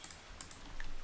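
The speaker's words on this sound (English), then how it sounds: "Whoops, I was hitting spacebar there" Faint clicks from a computer keyboard's spacebar being pressed, a few light, quick taps close by in an otherwise quiet room.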